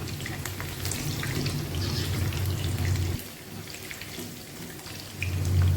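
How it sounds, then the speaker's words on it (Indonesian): Shallots and garlic frying in a pan of hot oil for a mackerel dish, a steady dense sizzle that drops off briefly midway, then picks up again, with no talk. "di sini aku mau goreng dulu bawang merah sama bawang putihnya"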